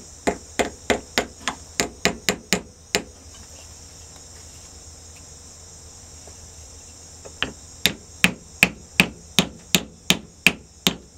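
Repeated sharp blows from an old, worn hammer ring out on metal in a steady rhythm, a run of about ten strikes, a pause, then another quick series, close and crisp.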